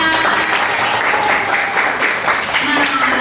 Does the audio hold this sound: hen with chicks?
no